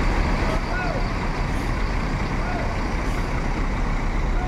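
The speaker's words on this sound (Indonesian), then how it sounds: "Diberangkatkan lagi bus ANS Puncak Lantia" ANS coach bus pulling away from a bus station, a steady loud diesel engine rumble with faint high beeps over a constant din.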